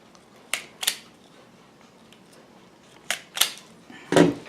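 Wire from a homopolar motor kit being cut and stripped: five sharp, close snips in two clusters, then a brief scraping pull, with quiet pauses between and no talking.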